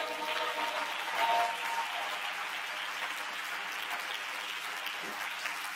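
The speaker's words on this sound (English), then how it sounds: "Clap your hands." Audience clapping during a church sermon, a steady wash of handclaps spread through the room, moderately distant and continuous, with a brief swell near the start.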